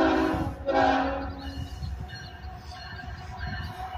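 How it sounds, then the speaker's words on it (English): A freight train rumbles past close by at the Amtrak station in Lansing, Michigan, loud and continuous, with a low horn-like tone and grinding wheel noise. "Freight train."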